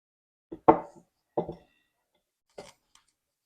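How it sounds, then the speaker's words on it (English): Biscuit dough patted out by hand on a kitchen countertop: a few soft, dull slaps in quick succession, close and fairly quiet, with short pauses between them. "I just pat it out with my hands"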